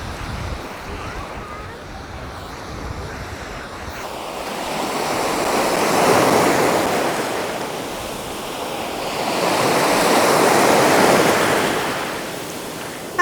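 Sea waves breaking on the sandy beach at Sutomore, Montenegro, with steady surf that swells into two louder surges, under a constant rush of wind across the microphone.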